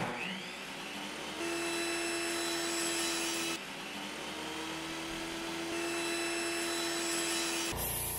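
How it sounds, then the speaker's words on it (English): A power saw slices sections from 1-inch diameter pipe, a steady droning whine broken into two long cuts with a brief pause between them, loud and close with no speech. "we have to cut out a bunch of sections from some 1-inch diameter pipe"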